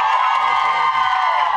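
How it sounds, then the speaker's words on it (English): A studio audience claps and cheers for the pop-punk acts Beauty School Dropout and jxdn, a dense, steady roar of applause and whoops at close range that holds from start to finish with no talking. "One more round of applause,"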